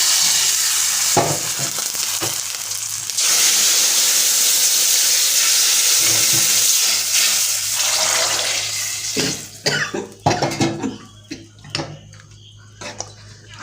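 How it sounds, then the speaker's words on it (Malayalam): Curry leaves are tempered in hot oil for a jackfruit seed masala curry, giving a loud, steady sizzle and crackle that later breaks into scattered pops and spatters as the frying dies down. "കുറച്ച് കറിവേപ്പില ഇട്ട് നന്നായി ഒന്ന് താളിക്കും."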